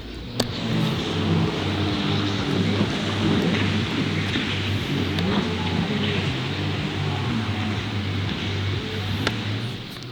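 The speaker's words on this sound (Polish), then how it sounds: "Chociaż trochę nagrałem ziomeczka, co jeździ na wodnym skuterze." A jet ski engine runs on the water off the beach at Ustka, a steady, fairly loud motor drone with a low humming tone that holds without a break.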